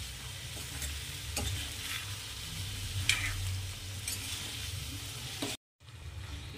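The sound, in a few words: stirring mixed vegetables with cabbage and peas in pan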